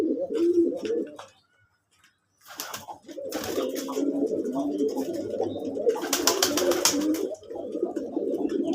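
Pigeons, local desi birds kept in pairs with their young, coo in soft repeated low murmurs at close range, with a brief quiet gap and bursts of rustling or flapping among the birds.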